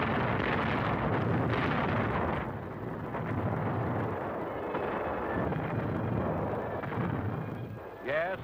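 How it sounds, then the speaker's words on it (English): Big naval guns shelling shore installations on Rendova during World War II, heard as heavy, booming, wind-buffeted rumble that swells and fades across the stretch, with a further low blast near the end. "Rendova shore installations come within range of our big naval guns."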